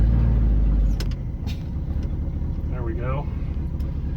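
A 1976 Ford truck with a 390FE engine and four-speed gearbox rumbles steadily in granny low, a loud, low engine drone under a brief spoken remark.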